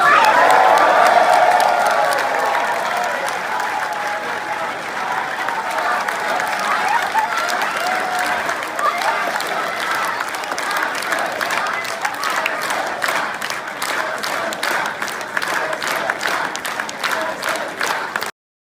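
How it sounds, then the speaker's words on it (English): Political rally audience applauding loudly and chanting "axe the tax" together, a dense crowd roar with rhythmic clapping and cheering that swells at the start and then holds steady throughout. "The audience claps back with a chant of axe the tax."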